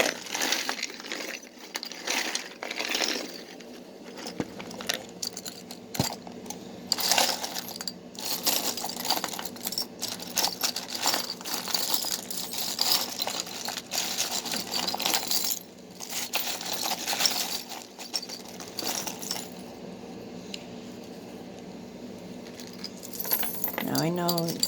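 Small metal tarot charms clink and jangle as they are handled and shuffled, a busy, continuous rattle close by, with speech in places.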